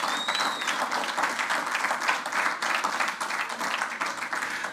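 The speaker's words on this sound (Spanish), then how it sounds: "Y si tú lo crees, dale un aplauso al Rey." Congregation at a Spanish-language church service applauding steadily, a dense, continuous wash of clapping from many hands at moderate loudness with no speech over it.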